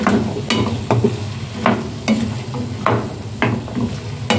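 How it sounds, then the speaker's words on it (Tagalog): A spoon or spatula stirs ginataan papaya in a pan, giving repeated scraping strokes roughly every half second over a soft coconut-milk simmer and sizzle, close and steady, with no talking. "Haluin natin siya ng haluin."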